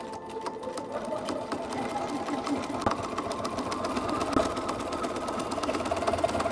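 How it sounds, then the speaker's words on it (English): Sewing machine top stitching a seam a quarter inch from the edge on a garment, a steady rapid mechanical chatter running throughout at close range, with a voice speaking faintly alongside. "top stitch away from the seam 1/4 of an inch all the way down"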